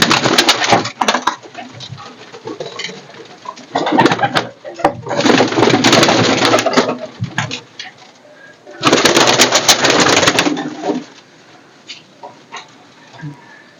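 Pigeons coo near and loud in repeated throaty bursts, with fluttering and handling noise between calls in a bird-selling setup.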